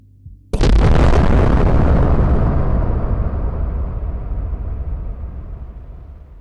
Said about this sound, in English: Oh, the explosion counted?